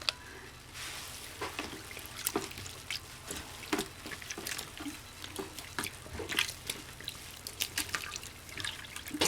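Wool yarn swished by hand in a basin of water for cleaning, heard as quiet close splashes, drips and trickles in an irregular rhythm.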